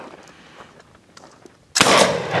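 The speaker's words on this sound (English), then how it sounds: "Shoot that Clorox bucket right there" A single loud gunshot fired at a Clorox bucket rings out sharply and close after a stretch of quiet outdoor background, its blast and ringing tail filling the final moments.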